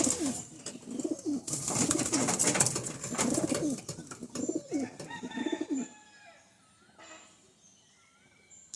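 Pigeons coo repeatedly in a loft, with soft, throaty, rhythmic calls close by, followed by quieter chirps and faint rustling.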